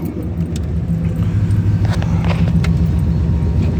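A modified car engine running at a rough, loud idle after start-up, with a steady low rumble and uneven pulsing plus a few metallic clinks on top; close, no talking.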